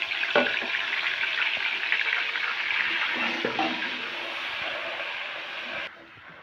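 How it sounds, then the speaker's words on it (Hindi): Garlic and ginger paste frying in a pan gives a loud, close, continuous sizzle that holds steady for several seconds before dropping away near the end. "दो चम्मच मैंने ना लहसुन अदरक डाल दिया इसमें। मैं इसको अच्छे से भून लूँगी।"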